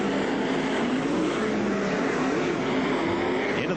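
Sprint cars race at Archerfield Speedway in the 1996 Australian Sprintcar Championship Final, a dense, steady engine roar with a faintly rising and falling pitch as the pack circles the track.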